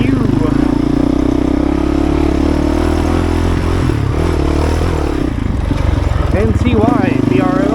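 A Honda CRF450RL enduro motorcycle engine drones loud and close while riding off-road, with a constant low thrum, gear clatter and rising revs near the end, under talk.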